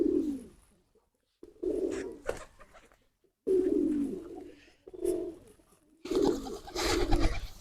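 Pet pigeons coo in several close, throaty bursts separated by short pauses, ending with a fuller overlapping round of cooing.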